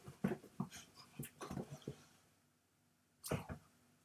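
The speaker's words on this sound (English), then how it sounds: "My dog is chasing nothing, but she's chasing." A dog dashes around indoors, producing scattered bursts of scuffling, panting and small yelps in quick clusters, then a lull before another short flurry; close and moderately loud, with no talk.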